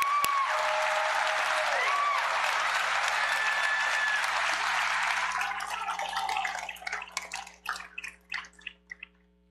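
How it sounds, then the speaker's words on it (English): A commencement audience at William Carey University applauds nursing graduates, the dense clapping holding strong before thinning out into scattered individual claps near the end. "Now you may applaud these MSN graduates."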